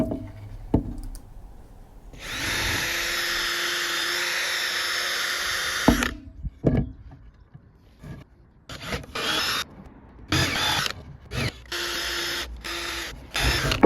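A power drill drives screws through wooden battens into a DIY cold tub, with a long whining run followed by several short bursts and pauses, close up with small handling knocks between them.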